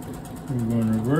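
A Janome Memory Craft 6500 sewing machine runs and stitches, its motor whine rising in pitch as it speeds up. The sound is close and steady over about a second.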